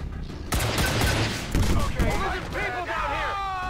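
Rapid bursts of gunfire in XCOM 2 crackle loudly, with a sharp volley and trailing echoes, while excited voices talk over the shooting.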